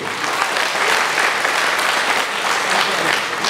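Steady applause from an audience at a veterans' organization event, dense clapping sustained throughout at an even level with no pauses.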